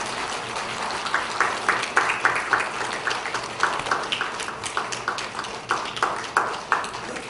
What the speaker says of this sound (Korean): 꽃을 전달하실 때 박수로 환영해 주시고 축복해 주시면